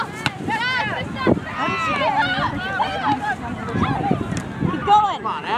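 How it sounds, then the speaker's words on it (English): Strong outdoor wind buffeting the microphone as a steady rushing roar beneath several people shouting and calling to each other throughout. "That wind's brutal."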